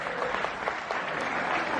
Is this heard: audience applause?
yes